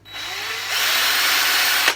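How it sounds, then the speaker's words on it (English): A power drill whirs loudly and close as it spins a wooden dowel that is being sanded with sandpaper, rising in pitch as it speeds up, then winding down at the end. "is to simply put it into a drill and then take it"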